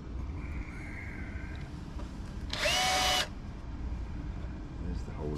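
A power drill bores a hole through cured epoxy in a windvane trim tab for a cruising sailboat, whining in one loud, steady burst of under a second, with quieter shop background before and after.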